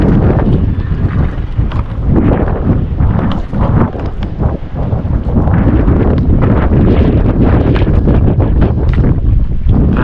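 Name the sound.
strong wind blowing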